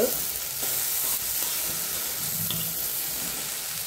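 Okra in a pan is stirred over a steady hiss of sizzling oil, with a few soft scraping strokes of the spoon close to the microphone.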